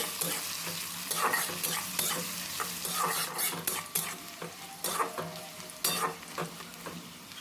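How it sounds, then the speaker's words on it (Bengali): Oil sizzles steadily as chopped onion is fried and stirred in a pan, with scraping strokes and light clinks of a utensil against the metal. "পেঁয়াজটা এখানে হালকা ভেজে নিতে হবে"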